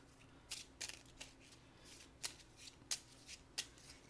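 Cards for the Dark Souls: Tomb of Giants board game are shuffled close by, with quiet riffling broken by several crisp, snappy bursts at uneven intervals.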